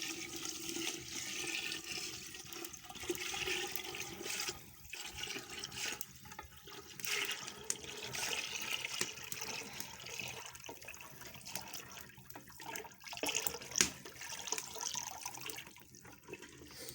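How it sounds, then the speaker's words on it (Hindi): Lassi poured into a pot while making kadhi, a continuous watery rushing and splashing that runs steadily for the whole stretch with small fluctuations, fairly close and with no talking over it. "फिर अब हम इसमें लस्सी शामिल करेंगे।"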